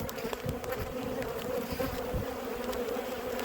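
Honeybees buzz steadily and densely at a nuc hive while frames are inspected, the insects bringing in red, orange, yellow and white pollen; a continuous close hum with no talking.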